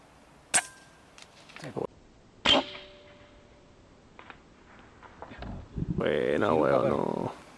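PCP air rifle shots ring out during dove hunting outdoors, two sharp cracks a couple of seconds apart with faint clicks after, and a voice speaking near the end.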